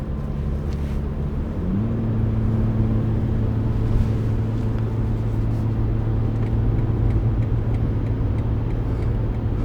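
A warmed-up 2021 BMW M440i xDrive engine runs at a steady hum that steps up slightly in pitch early on, then holds a smooth, even drone, close and moderately loud with no talking.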